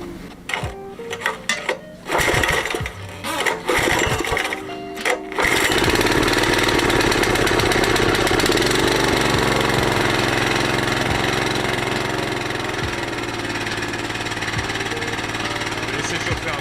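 A small petrol engine with a cleaned, rebuilt carburetor and new membranes starts after a few sputtering attempts, then settles into a steady, loud, buzzing run close by.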